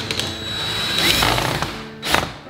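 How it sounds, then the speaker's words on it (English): A power screwdriver drives a pair of inch-long screws into a historic wooden window frame, whirring steadily close by before a short final burst. "So we'll put a couple of screws in,"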